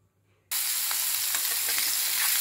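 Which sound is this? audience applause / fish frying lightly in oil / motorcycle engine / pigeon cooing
fish frying lightly in oil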